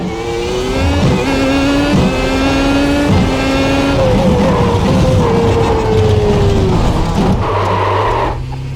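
Race car in the iRacing sim braking and sliding onto grass, with a loud engine note stepping down through several downshifts, a rough scrubbing slide, and a drop to a low rumble at the end.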